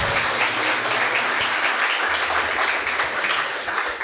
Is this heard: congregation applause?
yes